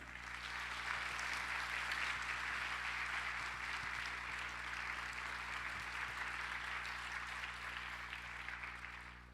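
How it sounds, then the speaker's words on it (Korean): A church congregation at a young adults' worship service claps to welcome a guest pastor to the front, a steady, dense round of applause filling the room without a break and tapering slightly at the end. "우리 목사님 나오실 때 큰 박수로 모시도록 하겠습니다."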